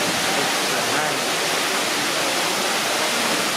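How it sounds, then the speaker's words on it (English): Indoor waterfall inside a huge Bass Pro Shops outdoor store, a constant loud rushing wash of falling water filling the space without pause. "And then you get to come out into this area and check out the waterfall. Yes, folks, this is inside a store."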